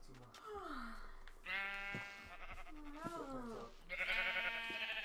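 Several Minecraft sheep bleat in turn, wavering cries close by, with a louder, higher bleat toward the end.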